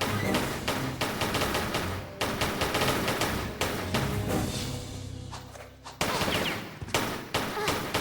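Enemy gunfire in Tomb Raider 4, rapid bursts of repeated shots in several volleys with brief pauses between, loud and close, broken by a quieter stretch before firing resumes.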